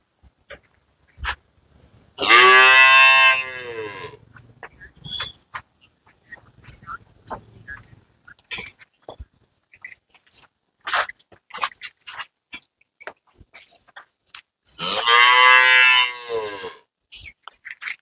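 A native-breed dairy cow moos twice at a farm, with long, loud, drawn-out calls about twelve seconds apart and faint knocks and rustling in the quiet between.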